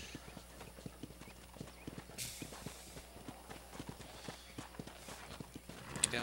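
Steady rhythmic clip-clop of horse hooves at a walking pace in the video game Red Dead Redemption, close and moderately loud, with a brief whinny and faint background noise.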